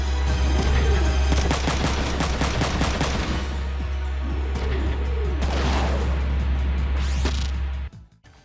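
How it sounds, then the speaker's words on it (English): Gunfire from the video game Front Mission 3 comes in rapid bursts of loud, sharp shots over a deep constant rumble, with swooping effects between volleys before cutting off abruptly near the end. "Gunfire in the original was loud,"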